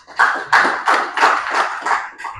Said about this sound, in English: Once again, clap yourself.